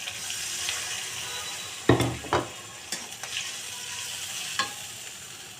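Frying ginger and garlic paste hit with a splash of water, setting off a sharp burst of sizzling and spattering followed by several smaller crackles over a continuous hiss.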